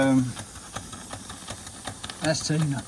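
A large mill steam engine runs on steam with a steady, rhythmic beat of soft repeated knocks close by, while someone talks briefly at the start and end.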